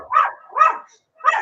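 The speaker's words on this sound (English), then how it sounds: "See, even a dog mad." A dog barks three times in short, loud, evenly spaced bursts, with brief pauses between them and no other sound underneath.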